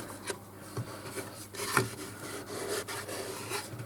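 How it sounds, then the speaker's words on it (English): Repeated rasping strokes of abrasive sanding a natural-edge pitch pine bowl, a steady scratchy rhythm close by with no talking. "I'm going to have to go on to sanding"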